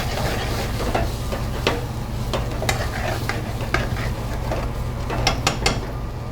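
Shrimp stirred back into boiling tomato sauce, a steady bubbling sizzle with repeated scraping and clicking of a utensil against the pan, no talk.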